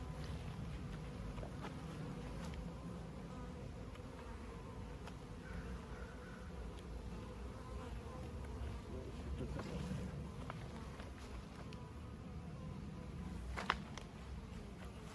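Honey bees in a large hive give off a steady, dense buzzing drone that runs throughout, with a brief louder knock near the end.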